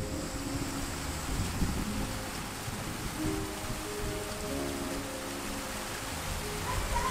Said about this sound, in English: when it rains, it really does rain.